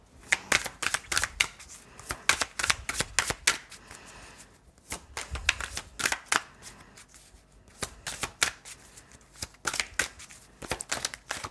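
Tarot or oracle cards are shuffled and drawn for a reading: rapid papery riffles and soft slaps come in bursts with short pauses, close and clear, with no talk.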